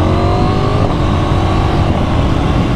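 A KTM 990 Duke motorcycle engine pulling hard under acceleration, a loud, steady, close roar with strong rumble and a rising whine held for the whole short stretch.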